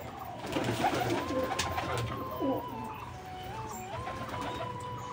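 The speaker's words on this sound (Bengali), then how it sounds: "নতুন পায়রাটা বাইরে আসলো তো, ওকে একটু খেতে দেবো" A newly acquired pigeon coos in a short series of soft, close warbling calls against a quiet background, with no talk.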